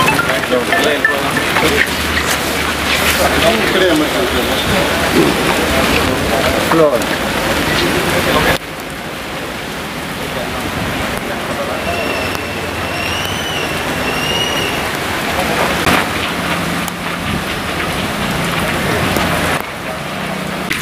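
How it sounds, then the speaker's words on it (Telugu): Heavy rain pouring steadily over a flooded town area, a dense continuous hiss that stays loud throughout, with some background rumble and faint distant sounds mixed in. "అలా పోరింగ్ వస్తూ ఉంటుంది వర్షం"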